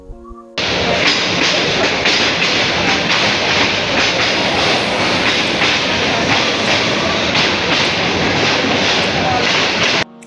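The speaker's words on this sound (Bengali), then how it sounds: "বর্তমানে ট্রেনটি গাজীপুর শ্রীপুরের ছোটমোটো একটি পাহাড়ের ভিতর দিয়ে প্রবেশ করছে" Brahmaputra Express passenger train running on the rails near hilly ground at Sreepur, Gazipur, a steady loud rumble with rhythmic clatter of wheels over rail joints, close and continuous after a brief start.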